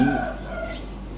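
A rooster crows one morning in the middle of Khon Kaen city, a short, distant call that fades quickly against low, steady background hum.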